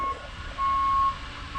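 Vehicle reversing beeps sound faintly in the distance, with one short tone followed by a longer sustained one over low background noise.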